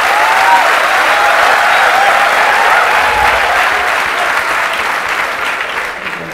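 Audience applause fills a hall at a corporate sales talk, a dense, steady clapping from a crowd that holds loud throughout and eases slightly toward the end, with no speech over it.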